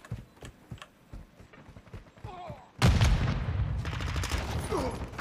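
Burst of heavy automatic gunfire in the video game Modern Warfare 2, starting abruptly partway through and continuing loud and dense to the end after quieter game sounds and brief talk.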